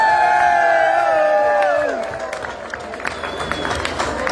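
Crowd at a New Year's Eve polka band show applauding and cheering for a band member: dense clapping and whoops that carry over loud held horn notes, then the clapping thins out. A voice talks over it.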